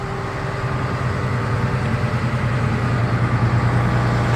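A quiet engine idles in a low, steady hum, a faint continuous rumble with no revving, heard alone without talk.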